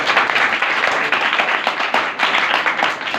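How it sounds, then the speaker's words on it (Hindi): Loud, dense applause and clapping from a gathered audience, cheering on a sister, sustained evenly throughout without pause. "एक बार जोरदार ताली भाई जोरदार"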